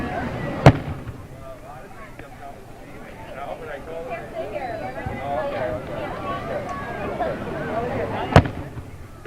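Town fireworks display at Rouses Point: two sharp distant bangs a few seconds apart ring out over a murmuring crowd, with people chatting nearby.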